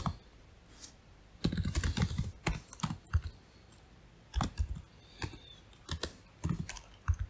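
Someone types code on a computer keyboard: close, quiet bursts of key clicks come in irregular clusters separated by short pauses, with no talk.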